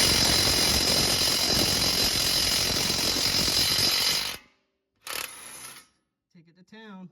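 An impact wrench with a wobble extension runs loud and continuous on a 2015-2020 Ford F150 4WD front wheel hub for about four seconds, then gives a shorter burst, followed by faint clicks and a brief voice.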